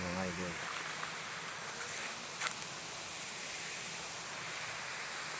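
A river waterfall gives off a steady, broad rushing roar that holds evenly throughout at moderate distance, with a voice briefly heard at the very start.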